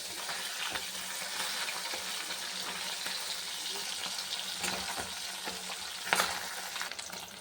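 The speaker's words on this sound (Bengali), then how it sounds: "এই দেখো মাছটা ভাজা হয়ে গেছে" Small puti fish frying in hot oil in a kadai, a steady close sizzle throughout with occasional stirring scrapes and a sharper pop near the end, no talking.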